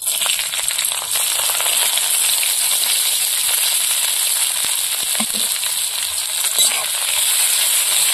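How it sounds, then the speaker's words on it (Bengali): Onion, garlic and green chillies sizzle steadily in hot oil in a wok over a clay wood-fired stove, a continuous close hiss with faint stirring scrapes throughout. "পেঁয়াজ, রসুন আর কাঁচা লঙ্কা একসঙ্গে ভেজে নেব।"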